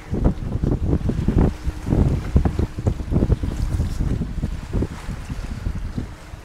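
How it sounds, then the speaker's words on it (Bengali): A rowboat pulls away on the Maithon dam reservoir, its steady knocking and splashing strokes repeating over gusting wind noise on the microphone and lapping water, close and moderately loud. "আর এই যে নৌকা ছেড়ে দিল"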